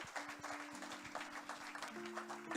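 A church congregation claps together in a sustained burst of applause lasting a few seconds, with steady sustained tones running beneath the clapping.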